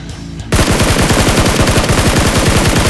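In the video game PUBG Mobile, a loud automatic weapon opens fire after a brief lull, firing a rapid, unbroken burst of sharp shots that stays close and dominant to the end.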